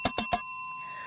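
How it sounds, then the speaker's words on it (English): Three quick bright rings of a small bell mark a two-minute warning at the close of an event, each strike clear and close, leaving a short ringing tail. "we just heard the Sin City bell"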